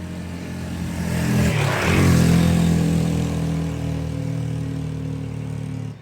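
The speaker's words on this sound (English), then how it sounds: "if you can hear all the traffic noise, I'm sorry, but I'm parked on the road" Road traffic rolls past a van parked at the roadside, a steady engine rumble that swells as a vehicle passes close around the middle, then settles back to a continuous drone, with no voices.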